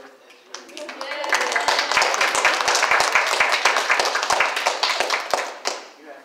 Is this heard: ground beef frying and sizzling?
no